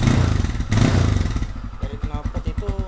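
Yamaha Scorpio motorcycle with slightly loose valve clearance, engine revved up close by, then dropping to a rough, rhythmic idle thump; a voice is briefly heard.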